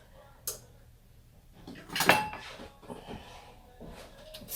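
Pots and pans clatter and knock while a kitchen stove is cleaned, with scattered handling noises around one loud metallic clank in the middle and no talking.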